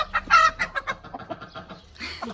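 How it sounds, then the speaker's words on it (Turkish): A rooster in a home garden flock with hens clucks in a run of short, close calls, with one louder burst near the start. "Horoz değil mi?"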